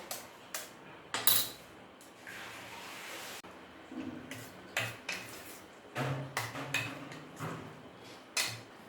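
Marinated chicken is worked together with an egg, cornflour and flour in a bowl for Indian chilli chicken, giving quiet, irregular clinks and taps of utensil against dish with soft squelchy stirring and no talking.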